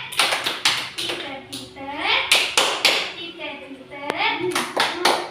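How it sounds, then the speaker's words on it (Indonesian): Schoolchildren and a teacher in a classroom doing the "tepuk titik" clapping routine: sharp bursts of group claps in a set rhythm, with children's voices chanting between the claps. "Kita tepuk titak dulu ya."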